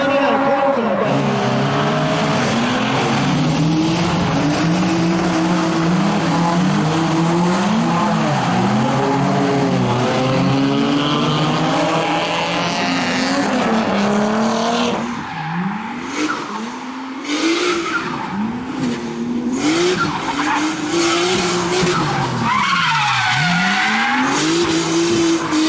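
A 1993–1997 Nissan Laurel C34, front-engine and rear-wheel drive, drifting with its engine revving hard and its tires squealing and skidding in long wavering wails, loud and close, shifting pitch as the car slides and recovers.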